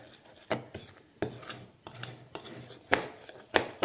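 Dry bread ingredients with a good pinch of coarse salt are stirred in a bowl, making soft scraping and rubbing sounds with several sharper clinks and knocks at irregular intervals, quiet and close.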